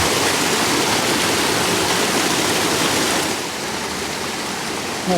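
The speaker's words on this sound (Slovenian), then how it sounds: "slapiči." Small cascades on the Bistrica stream near Preddvor, a steady close rush of falling water that fills the whole clip, easing slightly toward the end.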